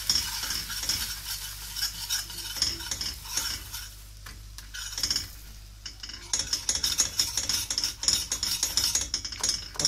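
Flour roasting in melted butter in a pan for hünkar beğendi, stirred fast and constantly; brisk rhythmic scraping of a spoon over a low sizzle, close up, with a brief quieter pause midway and no talk.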